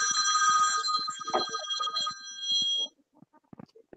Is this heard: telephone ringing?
yes